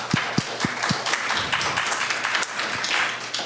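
Scattered audience applause at an Albany city council meeting, steady hand clapping from a room of people lasting a few seconds with a few sharper claps near the start.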